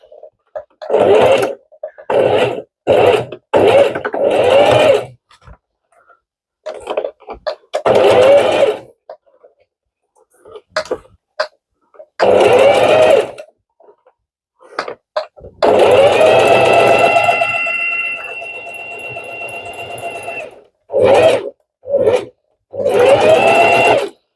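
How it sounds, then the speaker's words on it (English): A sewing machine running a zigzag stitch on crib sheet fabric, loud whirring bursts starting and stopping repeatedly, one longer sustained run in the middle, with short pauses between. "So we'll be using our zigzag stitch to stitch it"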